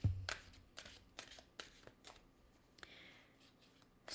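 Playing cards slid and drawn from a deck during a tarot-style love reading, producing several sharp papery snaps and slides spaced across a few seconds, close and crisp with no talk over them.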